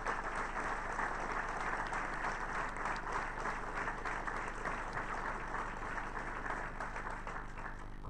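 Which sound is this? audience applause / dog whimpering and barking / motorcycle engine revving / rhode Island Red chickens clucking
audience applause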